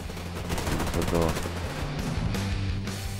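Rapid bursts from a PPSh-41 submachine gun in the online shooter Survarium, firing steadily throughout amid game ambience.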